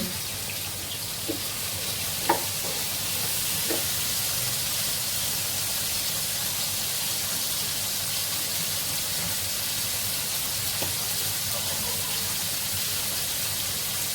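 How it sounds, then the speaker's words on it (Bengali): Pointed gourd (potol) fries in hot oil in a home kitchen, giving a steady, even sizzle that runs throughout with a few faint clicks and knocks. "এদিকে পটল ভাজি করছি একটু পটল ভাজি"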